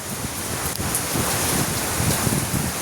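Heavy rain falls in a dense, steady wash, close and loud throughout, with no voices over it.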